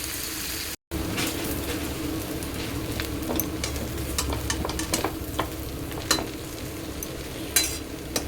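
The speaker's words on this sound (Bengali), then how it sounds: "গোলমরিচ দিয়ে এটাকে ভালো মতো ভাজবো" Chowmein with potato and paneer is stir-fried with a steady low sizzle and repeated scraping, clinking spatula strokes up close, after a brief dropout near the start.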